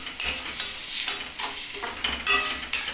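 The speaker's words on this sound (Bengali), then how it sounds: "তাহলে মশলাটাকে এটাকে ভালো করে কষিয়ে নিচ্ছি।" Egg, potato and chopped coconut are sautéed with a spice mix in a pan for ghugni. Steady frying sizzle runs under repeated scraping stir strokes, close and moderately loud, with no talking.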